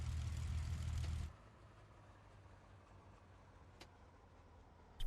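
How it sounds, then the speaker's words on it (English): A WWII fighter plane's piston engine in IL-2 Battle of Moscow runs loudly for about a second, then cuts out after shutdown. It leaves a faint low hum with occasional soft ticks. "It's probably going to cough and splutter a bit, isn't it?"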